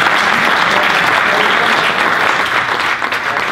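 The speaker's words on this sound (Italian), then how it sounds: "Un applauso." Loud, sustained clapping from an audience at a talk by a former Serie A footballer, a thick even patter that continues unbroken from start to finish.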